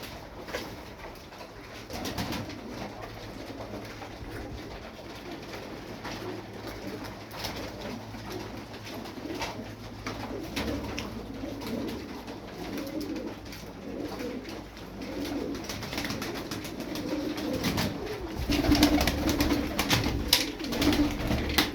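Tumbler pigeons cooing softly and repeatedly against a steady background of rustling and flutter, with the cooing growing somewhat louder near the end.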